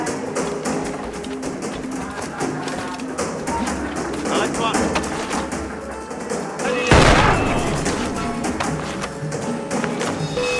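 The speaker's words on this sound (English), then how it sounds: "it's best to use the blunderbuss, Adewale's powerful new weapon" Blunderbuss fire in the game Assassin's Creed Freedom Cry, busy gunfire and combat noise under a narrating voice, with one heavy boom standing out.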